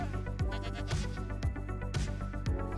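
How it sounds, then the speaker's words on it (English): Goats in a survival video game world give five evenly spaced bleats over steady game music, each a short wavering cry at moderate loudness, with no talking. "I got goats."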